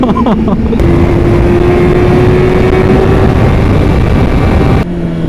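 A BMW M1000RR superbike engine fires up and holds a loud, close, raspy high idle that stays strong for several seconds before cutting off abruptly near the end.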